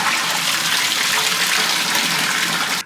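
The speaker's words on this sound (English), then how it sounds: "bring them over to your sink, kind of hold them in there and pour out the water." Water is poured from a pot of washed greens into a kitchen sink, a loud, continuous close-up gush and splash that cuts off abruptly at the end.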